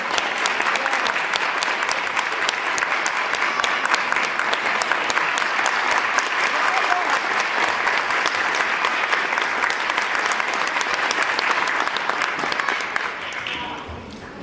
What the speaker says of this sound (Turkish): Bir alkış rica ediyorum.